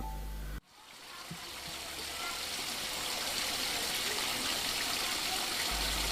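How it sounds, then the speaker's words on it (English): Water running and splashing in a well beside an old house in Germany, heard as a steady, broad rushing trickle that fades in after a brief cut and then continues evenly, close and fairly loud. "The water in the Frog Princess well was running and splashing without a stop"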